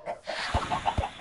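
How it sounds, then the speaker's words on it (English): Chickens in the video game Minecraft: a few short, clipped clucks in quick succession, fairly close, over soft game background sound, with no speech. "chickens flying above our house."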